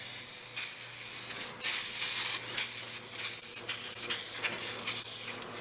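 Metallic paint is sprayed in light dusting passes onto a Toyota Celica custom front lip, the spray gun hissing in short repeated bursts with brief pauses between them, close and steady, with no talking.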